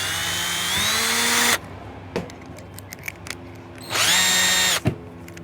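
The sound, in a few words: drill with spot weld cutter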